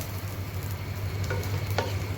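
Potato bhaji sizzles steadily in a hot pan, a continuous close frying hiss with a low hum beneath and a couple of brief clinks or scrapes near the end; no one speaks.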